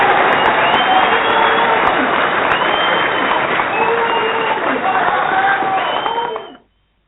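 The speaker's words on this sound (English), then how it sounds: "Joelle, I want to give you a round of applause" An audience applauds and cheers loudly and continuously for several seconds, a dense clapping roar with a few voices mixed in, before it cuts off abruptly.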